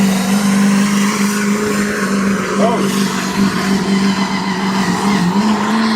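A loud engine drones steadily with a sustained tire squeal and skidding noise, while a voice briefly exclaims partway through.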